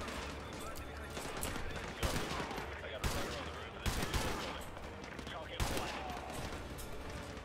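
Repeated bursts of gunfire in the Gulag mission of Modern Warfare 2 Remastered, with sharp shots and rattling volleys over a steady din of battle, one shot every second or so, loud and close.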